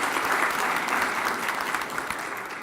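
Audience applause at a Comcast Leaders and Achievers awards ceremony, a dense steady clapping from a large room that carries on for the whole stretch and tapers slightly at the end.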